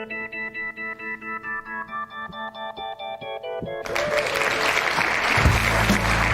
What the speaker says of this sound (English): Greggles, we are coming into music and applause in 3